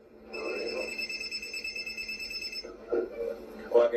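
Phone ringtone with a steady electronic ring, fairly close, lasting a couple of seconds before stopping, followed by brief voices talking nearby.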